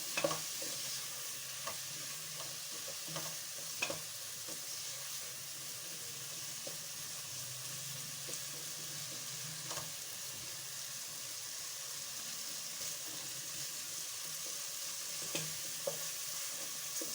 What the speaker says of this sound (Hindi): हम आलू शामिल करके इसकी अच्छे से बुनाई कर लेंगे